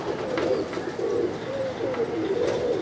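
Pigeons coo in soft, repeating throaty phrases close by, one call rolling into the next with a faint background hiss.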